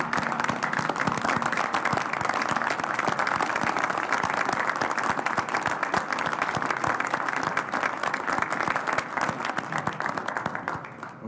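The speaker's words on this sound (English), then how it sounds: "I think a round of applause" Applause from attendees at a Commonwealth Transportation Board meeting, sustained dense clapping at even strength for about eleven seconds before easing off at the end.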